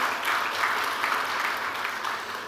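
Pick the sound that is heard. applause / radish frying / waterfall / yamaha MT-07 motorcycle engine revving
applause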